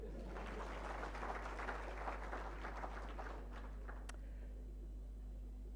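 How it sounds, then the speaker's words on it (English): A public dialogue audience claps for a speaker, a moderately loud burst of scattered applause that thins out and fades within a few seconds, leaving quiet room hum. "So please clap for her."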